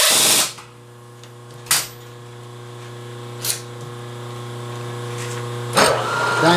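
A milling machine hums steadily while a 5/8 inch end mill works a steel part for a carriage stop clamp, with a few sharp brief clicks and bursts of contact noise breaking over the constant motor drone.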